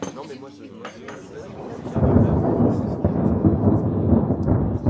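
Thunder rumbles through a storm, swelling into a loud, sustained roll that grows heavier partway through, with a voice speaking over the early part.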